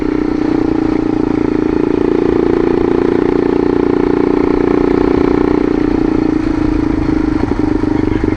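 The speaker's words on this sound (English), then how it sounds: "So you can just throw it in third or something and just engine brake all the way down." Vehicle engine braking downhill in third gear, a loud, steady low engine drone with a rough clattery edge that holds evenly throughout, no voices over it.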